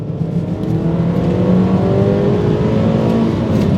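A 2007 Suzuki Swift Sport's 1.6-litre hatchback engine revs hard close by, its pitch climbing steadily with a raspy aftermarket exhaust note and no talking.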